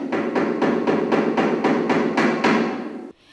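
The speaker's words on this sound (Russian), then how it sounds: "Обычные гвозди и молоток." Ordinary nails are driven with a hammer while a museum lace exhibition is set up, about nine loud, evenly spaced blows in quick rhythm that stop abruptly near the end.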